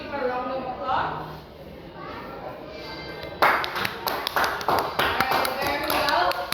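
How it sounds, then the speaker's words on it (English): A classroom of pupils breaks into a short round of applause for a classmate, sharp close claps starting abruptly partway through after a teacher's talking. "Give her a round of applause."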